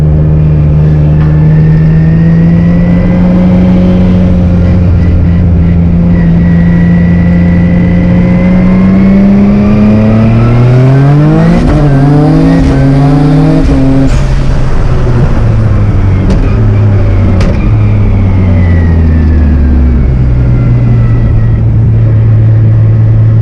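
A Nissan R33 GTR engine revs hard and accelerates, its loud, close note climbing in pitch and dropping sharply at each quick gear shift, with no talking.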